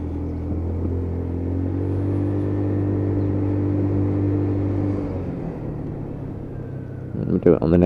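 A Lexmoto Titan motorcycle with a fuel issue idles at a junction around 1800 RPM, giving a steady, close, low engine hum for about five seconds before the tone shifts and some rougher noise breaks in near the end.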